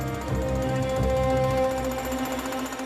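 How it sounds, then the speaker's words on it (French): Carabinieri in a raid use a jackhammer to break apart an entire kitchen, a loud, continuous, dense hammering rattle that runs steadily throughout. "les carabiniers démolissent consciencieusement, à coups de marteau-piqueur, une cuisine entière à la recherche d'éventuelles planques"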